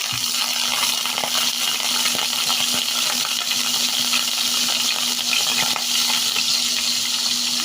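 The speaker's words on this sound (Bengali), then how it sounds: "আমি দিয়ে দিলাম সাদা সয়াবিন তেল এখন দিয়ে দিচ্ছি মাছগুলো" Taki fish frying in white soybean oil, a steady close crackling sizzle running without a break, with a faint low hum underneath and a few light clinks from the pan.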